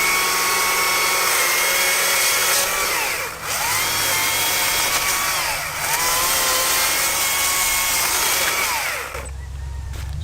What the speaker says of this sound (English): The Stihl MSA 140C lithium chainsaw.